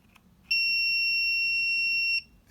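A voltage tester's self-test beep as its probes touch together during a UK light switch installation: a single steady, loud electronic tone lasting under two seconds, with two bright pitched lines, over a quiet background.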